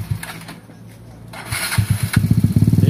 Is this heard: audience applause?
no